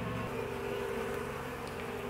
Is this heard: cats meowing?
no